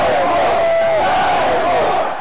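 A large crowd at a match in Irkutsk chants the word for puck, a loud, sustained collective cry that echoes through the arena.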